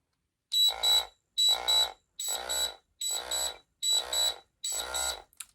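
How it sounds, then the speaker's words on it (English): A vibration alarm clock's shrill electronic test buzzer sounds in six evenly spaced pulses, each lasting about half a second, loud and close with silence between. "Press the test button to test the buzzer."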